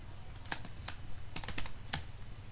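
Computer keyboard typing while entering C code, with a few quick bursts of key clicks and short pauses, close and clear against a low background hum.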